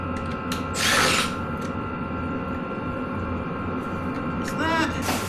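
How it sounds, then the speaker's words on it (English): Pinch bolts on the front wheel of a Beta 390 RR-S motorcycle are run down with a power tool in two short buzzing bursts, near and fairly loud, over a steady hum of workshop background. "we're gonna tighten these pinch bolts real quick"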